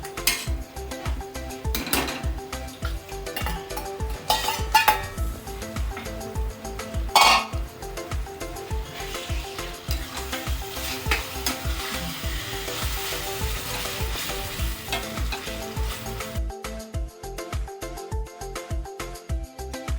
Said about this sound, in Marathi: चांगला असा खिमा मिक्स करायचा, एकजीव करायचा